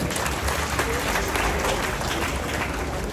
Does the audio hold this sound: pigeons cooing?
no